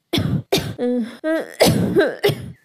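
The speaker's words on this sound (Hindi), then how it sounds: "कुकू की खांसी और भी बढ़ गई है" A cartoon character, Kuku, coughs in a run of loud, close, harsh bursts with strained, wheezy breaths between them.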